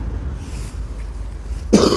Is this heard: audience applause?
no